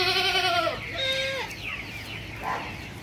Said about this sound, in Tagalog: Ito na yung mga ibang kambing natin.